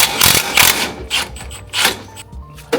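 A tool loosens the lower shock mount bolts on a Lexus GX460, giving several loud clattering, ratcheting bursts separated by short pauses.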